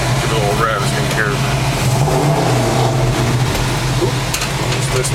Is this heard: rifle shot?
no